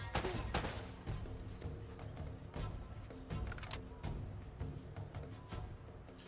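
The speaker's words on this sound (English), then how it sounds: "I thought it sounded like a machine gun mount" A mounted machine gun in Uncharted fires in rapid repeated bursts, a dense rattle of sharp reports at moderate distance running through the whole stretch.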